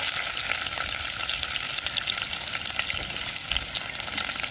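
Curry leaves and large onion frying in hot oil already holding mustard seeds and urad dal, a loud, steady crackling sizzle with scattered pops throughout, close up and without talk.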